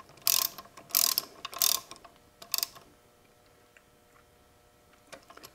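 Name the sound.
Ford Toploader 4-speed transmission shifter action being checked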